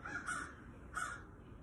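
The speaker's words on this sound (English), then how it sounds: "My window's open because I'm gonna take off my nail polish and of course there's fucking birds." Crows caw twice outside an open window, two distinct harsh calls a moment apart, fairly faint and at a distance.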